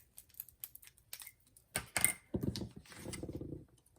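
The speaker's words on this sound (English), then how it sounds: "Then I'm going to cut the score line" Blade scoring a line into cardboard while making a Lindt truffle box, heard as a series of short dry scraping and cutting strokes with small taps, growing denser and more sustained toward the end.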